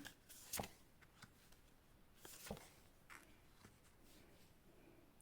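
Tarot cards being shuffled in a few quick riffling bursts, close and fairly quiet, with soft taps and rustles between them and no talking.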